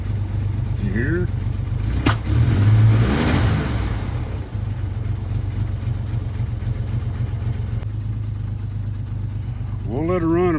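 A Chevrolet S10 pickup truck engine runs steadily at idle with one brief rev, a constant mid-range drone close by, while a person speaks briefly near the start and end.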